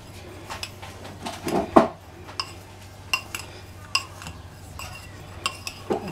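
Cake batter with chocolate sprinkles being mixed in a bowl, giving irregular clinks and scrapes of a utensil against the dish, close and distinct, with a louder clatter early on.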